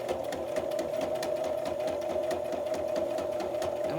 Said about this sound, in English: we're really just stitching all the way around